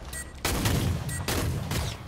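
Loud, close blasts from a four-barrel gun in the video game Killing Floor 2, two heavy firing bursts in quick succession, each a dense roar that cuts in sharply and rings out.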